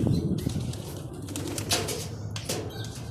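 Racing pigeons arrive at a loading station in Calamba, Laguna, their wings flapping and clattering close by amid soft outdoor noise, with no voices.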